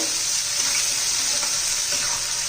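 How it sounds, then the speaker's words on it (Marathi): Ground masala and tomato stir-frying in hot oil for a spicy raw banana curry, a steady, loud, close sizzle that runs unbroken throughout, with no voices. "चांगलं तीन चार मिनटं तेल तिथंपर्यंत चांगलं परतून घेणार आहोत आपण त्याचा कच्चेपणा जाईपर्यंत"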